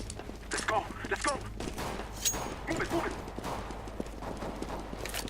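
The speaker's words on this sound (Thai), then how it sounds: "น่าจะเป็นปืนกล็อกหนึ่งแปดนะครับ" Glock-18 pistol fire in the shooter game CS:GO comes as quick bursts of sharp shots over steady low game ambience, with a voice talking over part of it.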